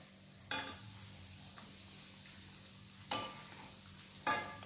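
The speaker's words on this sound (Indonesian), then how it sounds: "Kita goreng dulu ayamnya." Chicken pieces fry in hot oil for Korean-style honey chicken, a faint, steady sizzling hiss broken by three sharp clatters of the pan or utensils.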